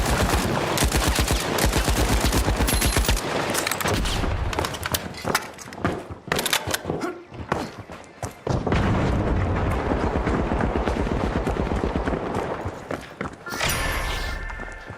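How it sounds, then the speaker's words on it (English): Pyro grenade and gunfire in the video game THE FINALS: dense, loud bursts of rapid automatic fire and blasts fill most of the stretch, easing briefly in the middle before resuming, with no talk over them. "Using pyro grenade!"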